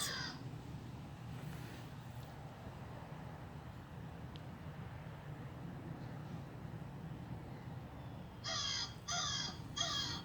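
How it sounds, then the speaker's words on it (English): A raven gives a few loud, insistent caws near the end, following a long stretch of steady low ambient rumble with no voices. "I will play the sound of the caw because I was so taken, I recorded it."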